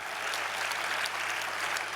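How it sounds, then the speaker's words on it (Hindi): An audience at a Patanjali University herb day event claps in a brief, dense, even round of applause, fairly soft and with no talking over it. "एक तालियां बजाइए।"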